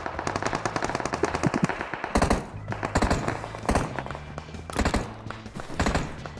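Automatic weapon fire in the mobile battle royale game PUBG Mobile, rapid bursts of gunshots in repeated volleys with short pauses between, loud and close.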